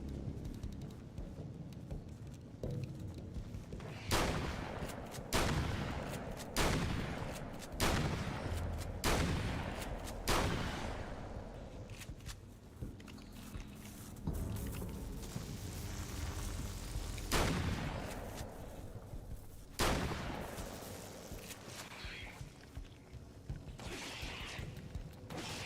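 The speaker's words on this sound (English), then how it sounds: "Back to the shotgun." Shotgun blasts in the video game Alan Wake, roughly a dozen heavy booming shots fired at irregular intervals over a rumbling, rain-like background, loud and alone with no talk.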